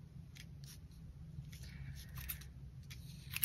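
Scissors snip loose sewing threads off a stitched fabric piece for a journal planner, a few quiet, close clicks and snips over a faint steady background hiss.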